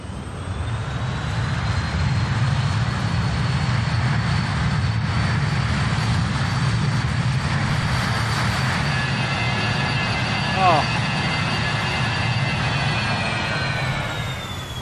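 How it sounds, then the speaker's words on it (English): BAE 146 jet engines at full power in Microsoft Flight Simulator, a loud, constant roar with a steady high whine running unbroken for the whole stretch. "just put the engines on full power, just so you can really hear those sounds"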